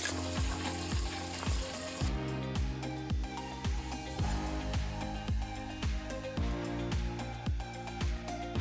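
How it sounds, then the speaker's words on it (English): Chicken sizzles steadily in hot oil, with a repeating metallic clank over a low, even hum throughout. "I'm gonna get that chicken fried in some hot oil."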